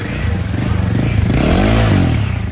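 A Royal Enfield Himalayan 450 motorcycle engine idles with a steady throb, then revs up and swells louder before settling, close and loud.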